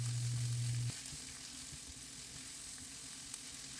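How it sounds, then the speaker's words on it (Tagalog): Onion and garlic sauté in a pan as a steady, close hiss of frying, with a brief low hum at the start that cuts off and a few faint clicks; no voices. "Ilagay ang onion at igisa hanggang maging translucent."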